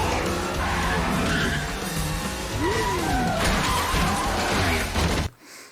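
Motorcycle skidding and crashing in a high side during a movie scene, a loud rush of tire scrub and engine noise with a sliding squeal and scraping before it cuts to near silence.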